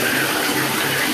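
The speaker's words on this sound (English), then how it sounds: "Let's turn the water on" Bath water gushes steadily from the tap into a tub, a continuous close broadband rush with no pauses and no voices.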